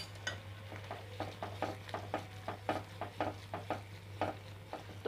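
Desi ghee stirred into melted sugar in a pan for barfi, with a steady run of rhythmic spoon scrapes against the pan over a low sizzle and a constant hum, close up with no voices.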